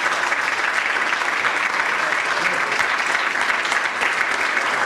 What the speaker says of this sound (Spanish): Le damos un aplauso para ella.